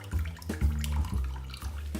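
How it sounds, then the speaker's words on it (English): Water pressed out of chopped spinach by hand for ricotta gnocchi dough, heard as uneven wet squishing and trickling in a few squeezes, close and fairly loud with no talk. "squeeze as much of that water out of the spinach as you possibly can"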